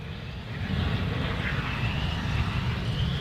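A wildfire in Oklahoma in March 2025 roars like a jet engine. The deep, rumbling wall of sound swells steadily louder and keeps up a dense, continuous roar close by.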